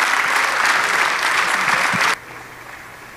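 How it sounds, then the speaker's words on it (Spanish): A church congregation claps loudly and steadily for about two seconds, then the applause cuts off abruptly into quiet room tone. "dele aplauso al Señor"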